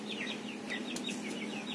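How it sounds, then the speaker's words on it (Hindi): A rooster and hens clucking nearby in a home yard, a run of short repeated clucks and chirpy calls over a steady background hum. "ये हमारे अली भाई के मुर्गा मुर्गी।"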